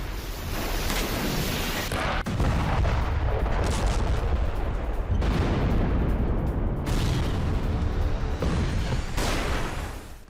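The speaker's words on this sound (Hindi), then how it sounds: "आसपास का इलाका विस्फोट और गोलियों की आवाज से दहल उठा।" Loud, dense rumbling booms and crackling gunfire from a Russian missile and drone strike in the Russia-Ukraine war roll on without pause, heavy and distorted throughout.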